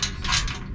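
Quick metallic clack and scrape as a locking pin is pulled on the folding rear porch of a 1974 overland truck, one short mechanical rattle close up.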